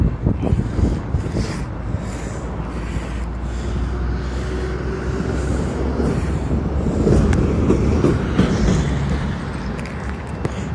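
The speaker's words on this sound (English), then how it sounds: "There's a big train coming." A big train rolls past a level crossing with a heavy, steady rumble and rattle that swells and stays loud throughout, a low continuous roar with clanking bursts near the end.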